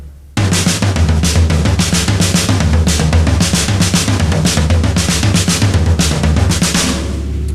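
Continuous busy drumming of triplet crossover patterns, dense rapid strokes across drums and cymbals in a rolling triplet feel, loud and close, with no talking.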